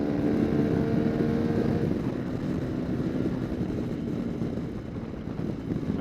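A Honda CRF300L Rally motorcycle fitted with a Yoshimura RS4 exhaust and an aftermarket ECU holds a steady, droning engine note that eases off slightly over several seconds, moderately loud with no talk.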